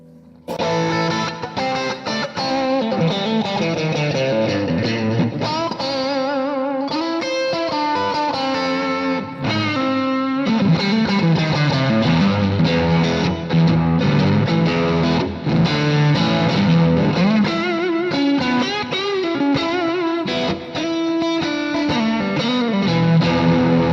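An electric guitar plays a continuous melodic line drenched in effects, loud and sustained, with notes blending and ringing into each other.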